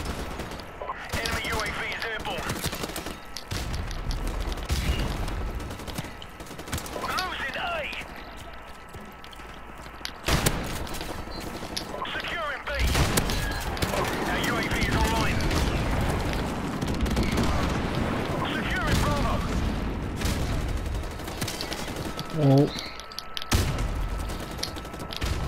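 Bursts of gunfire, including a shotgun, in a Black Ops 4 battle royale match, rapid clattering shots over ongoing game noise while players talk throughout.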